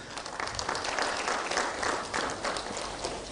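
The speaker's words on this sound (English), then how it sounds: "A round of applause." Steady applause from a convention audience at a Pan African youth gathering in Nairobi, dense even clapping from a large crowd throughout, moderately loud with no voices standing out.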